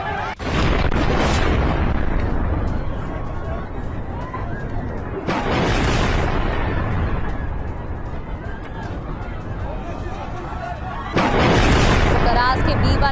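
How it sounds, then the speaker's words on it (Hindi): An air strike sets off an explosion at the Karas B1 bridge. Loud, broadband rumbling blasts surge in at least three distinct waves, and crowd noise and voices can be heard underneath. "करास के B1 पुल पर पहला धमाका, ये देखिए"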